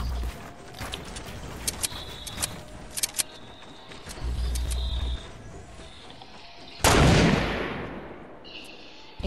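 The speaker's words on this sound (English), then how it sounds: "They're sniping at us." Sniper gunfire in a shooting video game, heard as a scatter of sharp distant cracks and clicks over a low rumble, followed by one loud, close shot with a long fading tail near the end.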